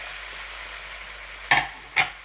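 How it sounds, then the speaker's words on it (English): A spoon scrapes through a thick ground prawn stew in a pot, two distinct stirring scrapes late in the moment over a faint background hiss, no voices. "we're going to stir it into the thick stew, the ground prawn stew"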